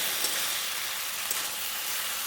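Kasuri methi (dried fenugreek leaves) frying with potatoes and spices in a pan with little oil, giving a steady close sizzle and hiss throughout with a couple of faint stirring taps.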